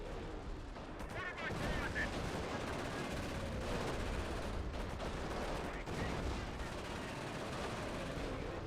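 Dense, continuous gunfire and explosive bursts fill a video game battle, with machine gun fire rattling steadily over a heavy rumbling background with no pauses.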